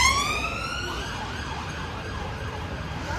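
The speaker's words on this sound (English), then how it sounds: "lots of sirens" Emergency vehicle sirens wail on Wembley High Street, a rising tone sweeping upward in the distance over a steady wash of street traffic noise.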